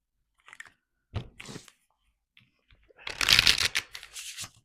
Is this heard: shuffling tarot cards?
yes